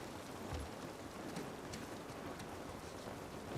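Heavy rain pours in The Last of Us Part 1 video game, a dense, steady hiss of rainfall filling the whole stretch evenly, loud and close with no break.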